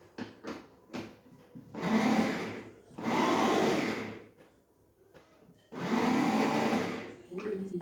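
Electric chopper whirring as it chops spinach greens for thoran in a home kitchen, three loud bursts of a few seconds each separated by pauses, close up with no talk.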